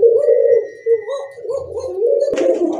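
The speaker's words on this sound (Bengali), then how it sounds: "মাশাআল্লাহ, আরেক জোড়া কবুতর। এই যে দেখেন শর্ট ফেস কবুতর," Several short-face pigeons, including a yellow almond bird, coo in soft repeated low murmurs close by, with a brief rustle or flap near the end and no talk.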